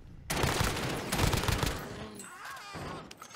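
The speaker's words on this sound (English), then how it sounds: "Oh, we're getting shot at!" Rapid bursts of automatic gunfire in a Warzone match, dense volleys of shots crackling over roughly two seconds before tapering into scattered pops and electronic game effects.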